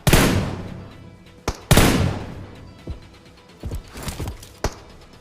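PUBG Mobile game gunfire heard as two loud, close booming shots with long decaying tails, followed by several smaller, sharper cracks and thuds, with no voices over it.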